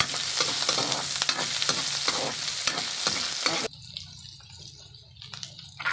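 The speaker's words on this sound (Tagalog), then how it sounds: "igisa natin hanggang mag-golden brown" Onion and ginger sautéing in a pan for mud crab, a loud, crackling sizzle broken by repeated scraping stirs, then dropping suddenly to a quieter low hiss for the last couple of seconds.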